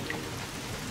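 Cartoon rain falls in a Turkish-dubbed episode of the children's show Titipo the little train, a steady, even hiss of drops lasting under a second with no voices.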